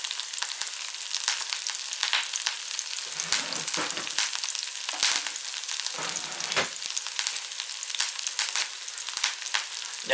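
Garlic with parsley and salt frying in oil in a pan: a continuous close crackling sizzle with occasional louder spits and stirring sounds, no talking.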